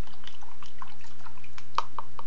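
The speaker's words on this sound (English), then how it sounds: "And you fill it up halfway with water, you rinse" A paintbrush from a paint-by-number kit is rinsed in a cup half full of water, giving soft sloshing with a few small, close drips and splashes.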